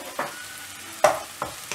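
Crushed garlic frying in a pan, a close sizzle with three distinct stirring scrapes, the loudest about a second in.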